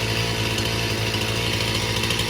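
A chainsaw engine being tuned runs at a fast, steady, loud rasping drone close by, with no voices.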